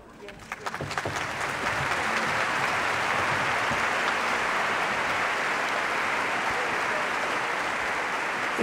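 An audience at a Vatican choral concert breaks into applause that swells within the first second and holds as a broad, loud, continuous wash of clapping filling the hall.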